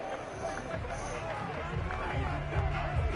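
Home stadium crowd roaring and murmuring in a Madden 22 football game, a steady dense babble filling the arena.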